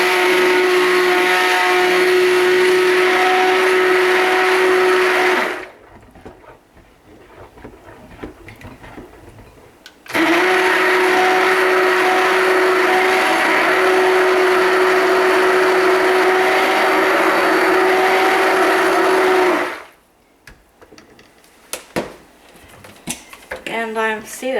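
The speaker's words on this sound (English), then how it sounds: "Now this one here, I am going to stick blend it a bit" A stick blender whirs loudly in two steady bursts while it mixes cold process soap batter, with quiet handling sounds in the pauses between runs and a voice talking near the end.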